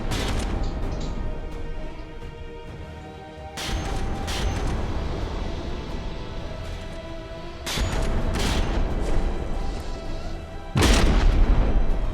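Turret guns firing in the naval video game Dread Not: three heavy booming shots a few seconds apart, each a loud sharp blast that fades into rumbling noise over a constant background roar.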